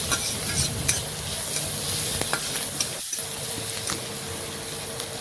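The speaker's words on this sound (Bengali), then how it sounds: "পেঁয়াজ একটু নাড়াচাড়া করে ভেজে নেব।" Chopped onions frying in a pan after dry chilli, a continuous close sizzle with scraping stirs and a few clinks of the spoon against the pan.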